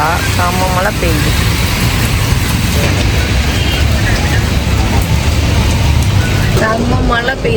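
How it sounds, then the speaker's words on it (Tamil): Heavy rain pours steadily outdoors near a shop, a loud, continuous broadband wash that never lets up, with a voice talking intermittently over it and traffic-like rumble underneath. "கடைக்கு வந்தா செம்ம மழை பெய்யுது."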